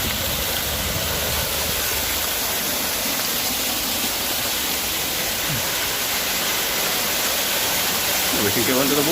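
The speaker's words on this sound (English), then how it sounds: "We can go under the waterfall." Constant broad hiss of a waterfall in a park setting, loud and unbroken throughout, with a faint low thump near the end.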